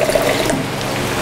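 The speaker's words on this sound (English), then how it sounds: "So I'm gonna add a little bit more water in here." Water pours steadily into a pot of homemade chicken noodle soup, a close, continuous splashing rush that holds for about a second without any talk over it.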